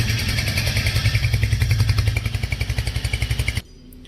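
A Royal Enfield Hunter 350 motorcycle's engine runs steadily with a loud, close thumping pulse, then slows to distinct chugging beats before cutting off abruptly, leaving near silence.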